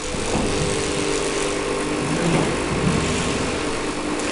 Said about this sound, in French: Ça c'est fait avec des moteurs chinois qui malheureusement sont très bruyants